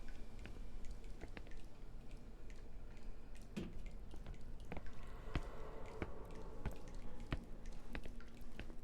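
Water dripping and trickling in the horror video game Song of Horror, a steady low wet murmur scattered with irregular sharp drips and squishy plinks, fairly quiet and without talking.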